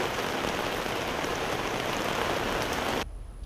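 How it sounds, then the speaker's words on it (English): Steady rain falls outdoors onto a tarp, a dense even hiss that holds for about three seconds before cutting off abruptly, leaving quiet background. "Not an hour after I was starting to run the sprinklers, it started to rain."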